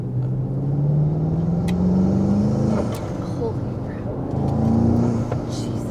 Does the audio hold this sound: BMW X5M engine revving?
yes